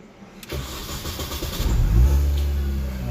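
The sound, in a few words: Mini Cooper S 1600 cc supercharged engine starting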